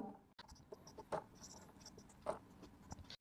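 A pen scratches figures for agarbatti-making electricity costs onto paper in soft, brief strokes with small pauses between them, quiet and close with no talking.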